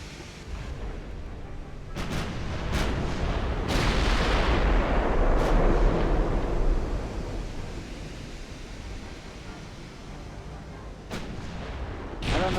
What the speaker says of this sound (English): you guys are missing with your fucking main guns at a target that's this close